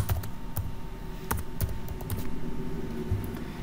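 Keys tapped on a computer keyboard in a quick, uneven burst of light clicks, close and fairly soft, with no talking.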